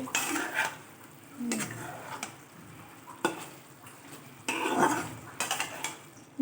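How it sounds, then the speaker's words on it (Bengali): A cooking pot of drumstick and poppy-seed curry with potatoes is opened. Several sharp metallic clanks and scrapes of the lid and utensils come up close at irregular intervals over a low background sizzle. "এবার ঢাকাটা খুলে দেখবো"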